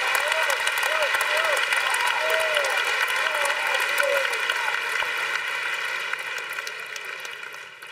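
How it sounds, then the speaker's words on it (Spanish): Applause from the audience for the winners at the Platino Awards 2023 gala, a loud, dense wash of clapping that fades over several seconds, with a voice talking over it and steady music tones underneath. "¡Que se escuche ese aplauso bueno."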